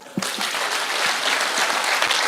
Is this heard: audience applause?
yes